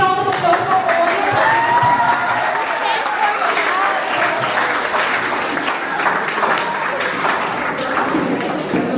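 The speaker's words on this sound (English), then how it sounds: "audience, let's have a big round of applause for all the" Big round of applause from the audience for class IX quiz contest participants, sustained dense clapping across the whole stretch with a voice talking faintly underneath.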